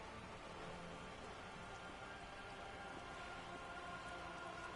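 Steady, faint rain ambience from the video game Disco Elysium, an even hiss of falling drops with no speech.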